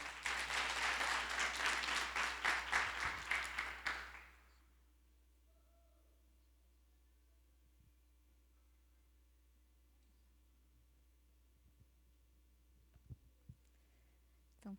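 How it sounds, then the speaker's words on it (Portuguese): A church congregation applauds at a worship gathering, a dense burst of clapping for about four seconds that stops abruptly, leaving a low hum and a few faint knocks. "Dá uma salva de palmas ao Senhor."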